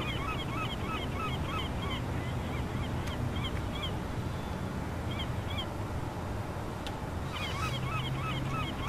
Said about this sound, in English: The birds can get really annoying.